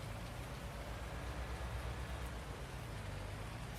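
Steady rain falls in a tractor video game, a soft continuous hiss of drops with a low rumble beneath, faint and unbroken with no voices.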